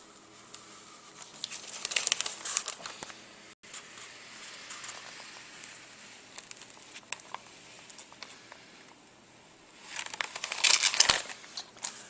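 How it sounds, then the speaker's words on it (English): Vinyl stencil slowly peeled back from a fabric Yudu screen, giving soft crinkling, patter-like crackles in two louder bursts separated by quieter peeling, close and alone without talk. "And just peel that back slow and make sure all your pieces stay stuck."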